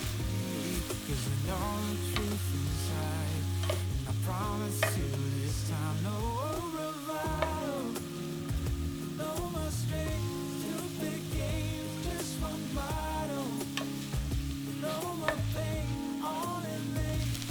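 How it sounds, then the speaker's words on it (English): Udon noodles and leftover hot pot beef sizzle steadily while being stir-fried and mixed with chopsticks, a dense continuous frying hiss with scattered clicks and scrapes, close and without talk. "with some chopsticks, I will just mix everything together"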